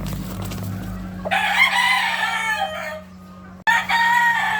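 A Sweater-breed gamefowl brood stag, a golden boy, crows twice in close succession, loud and near, over a steady low background hum.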